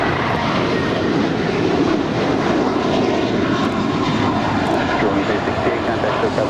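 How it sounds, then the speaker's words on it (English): Loud, steady broadband roar of a United Airlines Boeing 737-900ER jet arriving at LAX, close and constant throughout without letting up. "That is United Airlines Flight 2242 coming in from Chicago O'Hare"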